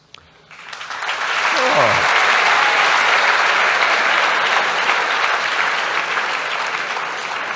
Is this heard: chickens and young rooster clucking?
no